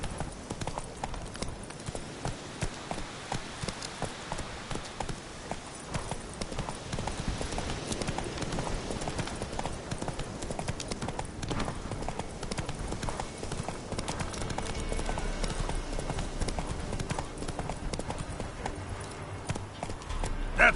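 Rhythmic clip-clop of a horse's hooves from a PS4 video game runs steadily and evenly the whole time at a moderate level, with no pauses.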